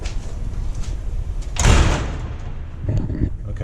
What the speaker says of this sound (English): So I'll take you through and show you this door closer.